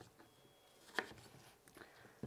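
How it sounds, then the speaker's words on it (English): A knife roughly chops apples on a kitchen board, giving a few faint, sparse knocks with quiet gaps between them. "So I'm going to roughly chop these apples."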